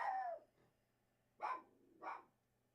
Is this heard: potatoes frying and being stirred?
no